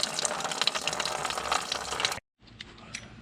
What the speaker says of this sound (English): let the coolant drain into the pan